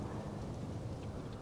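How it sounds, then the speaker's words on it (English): Rain and rumbling thunder from a storm in the Life is Strange: Double Exposure video game, a steady broadband wash of downpour with low rolling rumble throughout, fairly faint and without voices. "oh God, the storm"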